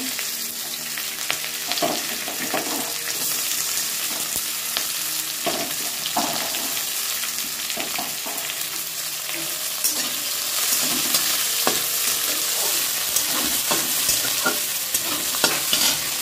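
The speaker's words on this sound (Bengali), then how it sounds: "পেঁয়াজটা ভাজা হোক বন্ধুরা। পেঁয়াজটা ভাজা ভাজা হচ্ছে।" Onions frying in a kadai over cumin, dried chilli and bay leaf, with a spoon stirring and scraping through a steady close sizzle that grows a little louder toward the end.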